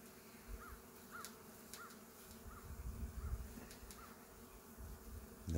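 Honey bees buzz near and around a bowl of honey outdoors, a soft, steady hum with a few passing insects and a brief distant bird call, quiet throughout.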